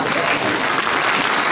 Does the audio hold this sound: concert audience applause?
yes